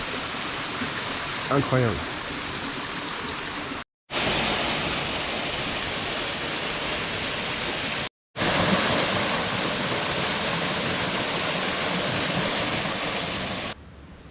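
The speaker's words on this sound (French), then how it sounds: "Voilà, c'est la cascade là." A continuous broadband roar of a waterfall on São Miguel island near Praia dos Moinhos, steady and close, broken by two brief cuts, with a voice speaking briefly early on.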